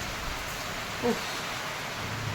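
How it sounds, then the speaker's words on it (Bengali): Heavy outdoor rain after hours of downpour, a dense, steady hiss of falling water with no breaks or voices. "দু ঘন্টা ধরে বৃষ্টি হওয়ার পর এখনও বৃষ্টি ছাড়ছে না"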